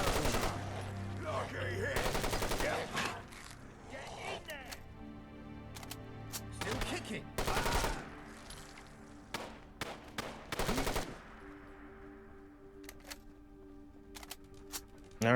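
Gunshots in the Fallout: London game: sharp single cracks and short bursts ring out at irregular intervals, some close together, with quieter gaps of ambient tones between them.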